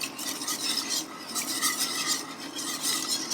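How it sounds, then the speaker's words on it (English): Milk being whisked into a pasta bake sauce in a pan over the stove, a steady, close rhythmic scraping and swishing of the whisk repeating in quick strokes for a few seconds, with no voices. "some milk in, whisking"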